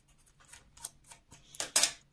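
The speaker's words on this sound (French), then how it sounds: "je vais gommer ça." An eraser rubs pencil lines off paper in a scrapbooking craft, giving soft, irregular scratchy strokes that build into a few louder, quicker rubs near the end, close and fairly faint.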